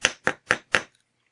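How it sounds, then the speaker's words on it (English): Metal wire for a necklace link is lightly hammered into shape, four quick, crisp taps at an even pace, close and then silent. "Even working the metal lightly like this helps to stiffen the wire."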